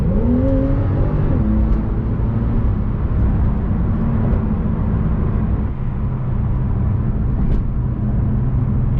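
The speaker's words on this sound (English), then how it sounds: "you can hear some burbles and crackles when I rev the car" Porsche 911 S (991.2) engine revving, a loud, close, steady drone with rising pitch sweeps early on and a few sharp crackling pops scattered through.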